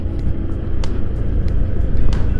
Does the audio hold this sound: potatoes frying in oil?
no